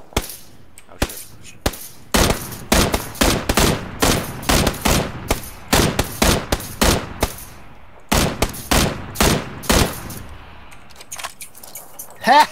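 Gunfire rings out in the PUBG battle royale video game, with loud, close bursts of rapid shots broken by short pauses, while players talk over the action.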